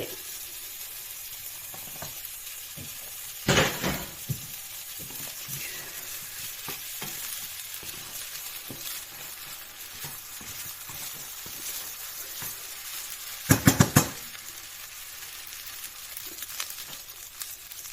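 Shrimp fried rice with tomato stir-frying in a pan gives a steady, quiet sizzle, broken by a few sharp scraping and clattering stirs of the utensil, with no talking.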